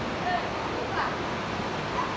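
Rushing water of the Bhagirathi river at the Devprayag confluence with the Alaknanda, a constant broad roar of flowing current, steady and fairly loud throughout, with faint voices nearby.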